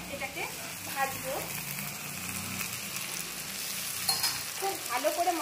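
A spice paste for rajma curry fries in a pan, giving a soft continuous sizzle with occasional scraping stirs, fairly quiet, with faint bits of voice in the background.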